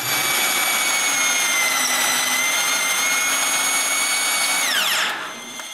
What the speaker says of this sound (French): Je perce donc un trou, mais très près du bord.